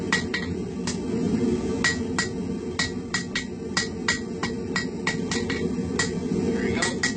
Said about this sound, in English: Rounding hammer, just drawing out the stem a bit more.